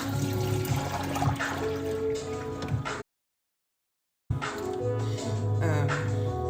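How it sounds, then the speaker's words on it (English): Water poured over tie-dye fabric in a basin, a continuous splashing and trickling pour that runs steadily, breaks off into a short silence, then resumes just as loud. "I'm pouring water over it."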